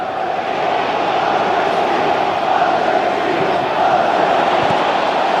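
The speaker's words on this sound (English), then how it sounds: "the crowd are just beginning to get a bit frustrated, Steve. One or two shouts here from the back of the stand" Crowd at a football stadium during a Manchester United versus Sunderland match, a continuous dense roar of massed voices with scattered shouts of frustration, loud and steady throughout.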